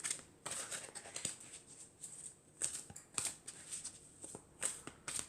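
Tarot cards are shuffled close up in soft, papery riffles and flicks, an uneven run of quiet slaps and swishes at low volume with no talking.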